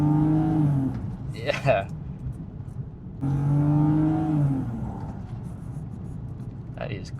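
An old BMW car pulls away under acceleration, its engine note rising in two strong surges with a brief lull between, heard close from inside the cabin while a person speaks briefly.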